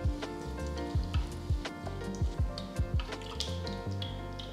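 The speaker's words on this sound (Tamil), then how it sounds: "கடுகு பொரிய ஆரம்பிச்சிருச்சு." Mustard seeds splutter and pop in sharp, irregular bursts in continuously sizzling hot oil, close and fairly loud.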